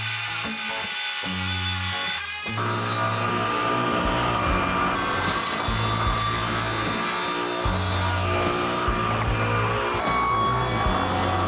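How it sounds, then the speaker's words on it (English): A table saw rips flame birch down to thickness. A low motor hum gives way to a loud, sustained cutting whine with a rough, grainy edge, close and unbroken. "Let's head to the table saw. Let's cut this to thickness."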